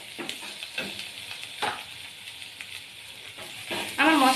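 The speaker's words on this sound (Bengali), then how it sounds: "এই মশলাগুলোকে আমি সুন্দর করে কষিয়ে নেব" Turmeric, sugar and other spices being sautéed in a pan for a koi fish dish, a soft sizzle punctuated by spatula scrapes, swelling into a louder hiss at the very end.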